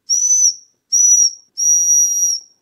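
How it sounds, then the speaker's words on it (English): Three sharp, shrill blasts from a small whistle on a sneaker hang tag sound close by, the last one held longest, with brief silences between them. "it is an actual functioning whistle"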